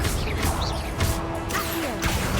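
Several sharp crashing impacts from the Confringo fire blast spell in Hogwarts Legacy, whooshing hits landing in quick succession over a steady game background.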